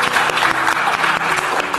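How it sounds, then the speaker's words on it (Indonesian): A crowd breaks into steady, dense applause, many hands clapping together at moderate loudness throughout. "boleh tepuk tangan jauh-jauh ke sini"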